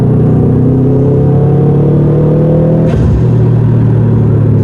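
A Subaru STI engine rumbles and revs steadily, then a sharp crackling burst of exhaust pops cuts through near the middle before the low drone resumes.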